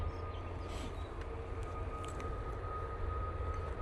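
A Ryanair airliner starts its takeoff roll at Manchester Airport as a faint, distant, steady jet roar with a thin sustained whine, alone and without talk.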